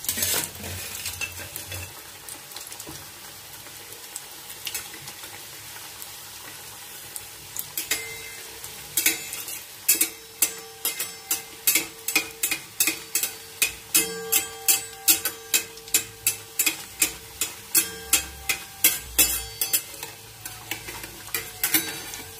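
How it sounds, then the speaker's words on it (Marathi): Samosas slipped one at a time into hot oil for frying, with a steady sizzle and a run of sharp rhythmic clicks and taps that grow denser through the second half, and no talking. "तर मी हा पहिला समोसा घालते"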